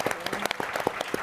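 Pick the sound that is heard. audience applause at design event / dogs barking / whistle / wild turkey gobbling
audience applause at design event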